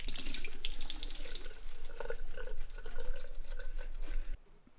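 Running tap water splashing over a metal etching plate as it is rinsed after an acid bath, a steady close hiss and spatter that cuts off abruptly near the end.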